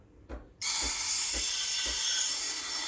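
A Breville Barista Express BES870 steam wand bursts into a loud, steady hiss after a brief click and pulse, then keeps hissing continuously, with faint rhythmic pump thumps underneath.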